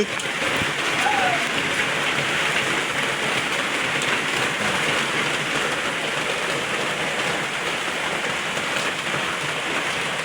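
Steady rain pours down over an open rice field, a dense, even hiss of drops on surfaces that holds without a break for the whole stretch, close and fairly loud, with no voices over it.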